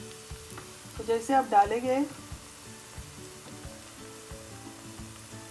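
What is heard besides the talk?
okra (bhindi) frying in hot oil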